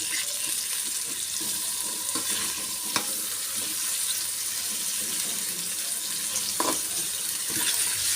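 Fish cooking in a pan with salt and turmeric powder, stirred through as a constant frying hiss continues, with occasional utensil scrapes and clinks and no talking.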